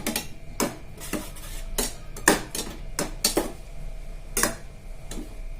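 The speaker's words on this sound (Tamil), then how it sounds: "இப்போ எல்லாத்தையும் கலந்து விட்டுக்கோங்க." Spoon knocks repeatedly against a bowl while curd pachadi is mixed with salt, a steady series of crisp clinks close up, with no talking.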